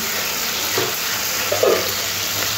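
Spice paste with a little sugar fries in a pan with a steady low sizzle, broken by a couple of soft stirring scrapes.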